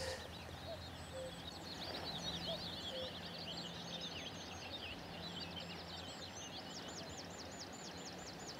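Outdoor birdsong on Black Mountain, Belfast, with busy high chirps and trills, and a cuckoo calling softly in the distance at spaced intervals.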